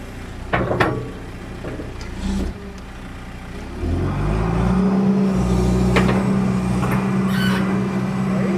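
An old abandoned digger that doesn't work right digs up a big old stump, its diesel engine revving up to a loud steady rising drone, with clanks and knocks of the machinery early on, nearby and continuous.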